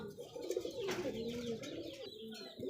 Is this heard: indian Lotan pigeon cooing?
yes